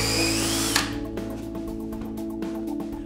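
A power drill bores holes in a stud wall to mount a flushing system carrier, starting with a loud whine and then running in a steady, close, rhythmic grind with brief pulses.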